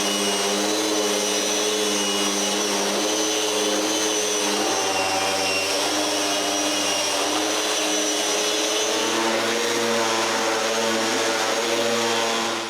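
Power sander working the exterior of a wooden bookcase, a loud, steady droning whine with a constant motor hum, close and uninterrupted until it winds down at the end.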